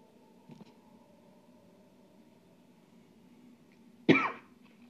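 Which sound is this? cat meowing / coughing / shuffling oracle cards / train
coughing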